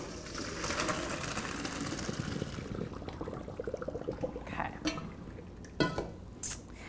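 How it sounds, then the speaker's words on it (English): Al dente pasta and its cooking water pour into a small colander in a home kitchen for mac and cheese. A rushing splash fills the first few seconds, then softer drips and a few clinks of metal, all fairly quiet. "We're just going to strain it through a little colander here."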